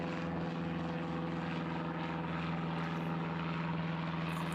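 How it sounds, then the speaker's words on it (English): A Cessna 152 training propeller plane at East Midlands Airport drones steadily, a continuous buzzing engine tone that holds even and fairly loud throughout. "which is one of the Cessna 152s from the training school here at East Midlands"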